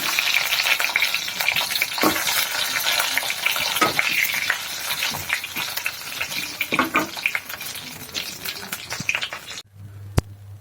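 Vegetable bhaji frying in a pan in the early morning, a loud, dense crackling sizzle with repeated stirring scrapes throughout, cutting off abruptly near the end.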